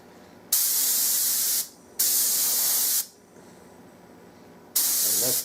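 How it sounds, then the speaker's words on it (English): A spray gun set to very low flow releases a fine mist in three separate bursts while finishing a 16-gauge side-by-side shotgun. Each burst is a loud, close hiss lasting about a second, with quiet gaps between. "I've got it turned way down where there's very little flow, and it's a very, very fine mist."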